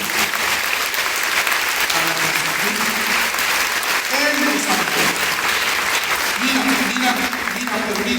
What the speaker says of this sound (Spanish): Un fuerte aplauso para Cristo.